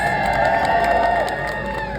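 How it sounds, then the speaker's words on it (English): Children and adults cheer at a teachers' union picket line rally, a steady crowd roar of shouts and whoops held loud and close for the full stretch, with some voices mixed in. "A big cheer for all the kids, please."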